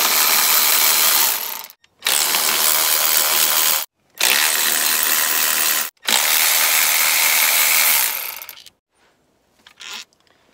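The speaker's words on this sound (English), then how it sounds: "take a T27 and remove these four T27 Torx bolts that are holding down your intercooler shroud" A ratchet spins out T27 Torx bolts holding the intercooler shroud on an R53 Mini Cooper S, in three loud, steady bursts of rapid clicking broken by short pauses, then a faint brief rattle at the end.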